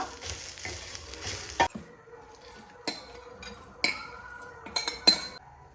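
Coconut roasting in a pan for a curry masala, a soft sizzle under intermittent scraping and clinks of a metal spoon against the pan, with a few sharper knocks, and no talking.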